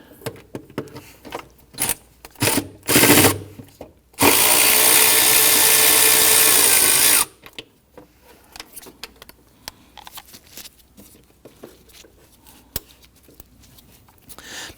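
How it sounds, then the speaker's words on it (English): A 10mm bolt is loosened on a 2011-2014 Kia Sorento engine during knock sensor replacement, heard as a few close metallic tool clicks and ratchet bursts, followed by a loud, steady mechanical whir lasting about three seconds and then quieter handling noises. "There's another 10mm bolt down there. I'll go ahead and loosen that one."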